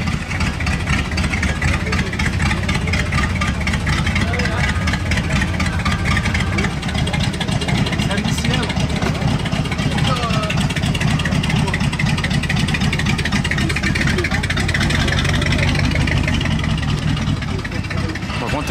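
An Excalibur car idles with a steady, boat-like engine rumble on Monaco's Place du Casino in winter, running continuously at close range with people talking over it throughout.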